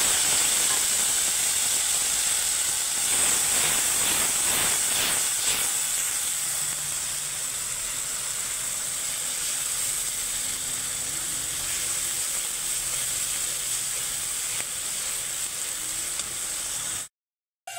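Onion and tomato paste sizzles loudly in hot oil in a wok, seasoned with a radhuni tempering, a dense steady hiss that rises into rapid crackling early on, then settles and runs on before ending abruptly.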